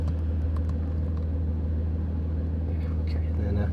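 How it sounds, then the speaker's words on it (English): A new 2024 Porsche 911 Carrera GTS with its exhaust muffler in sport mode gives a steady, deep idle rumble close by, holding an even low drone throughout without any big revs. "Sport mode, that way we get the muffler sound"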